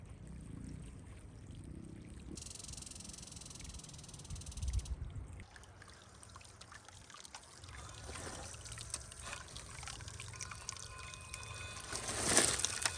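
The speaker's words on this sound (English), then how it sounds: "we're out here washing our feet in a small little creek" Feet are washed in a small forest creek in Colorado, with soft trickling and splashing water, faint and close, and occasional louder sloshes over a quiet outdoor background.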